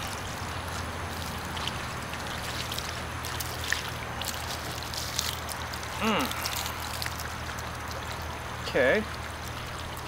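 Water runs and trickles over sand-fused glass as it is washed off outdoors, a steady close stream under a low hum, with a few short spoken words.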